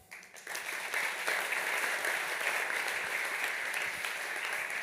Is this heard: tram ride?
no